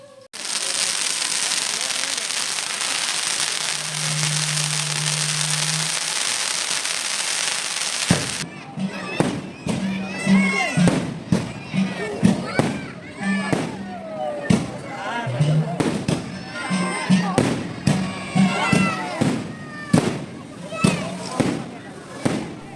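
Fireworks and firecrackers go off at a temple festival in Alappuzha, first a dense continuous crackling roar, then a long run of sharp bangs and pops while voices chatter nearby.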